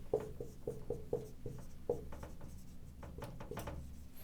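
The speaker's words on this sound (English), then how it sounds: "Let me write it down on the whiteboard here." A marker squeaks and strokes across a whiteboard in a quiet room, a run of short rhythmic squeaky marks and taps close by with no talking.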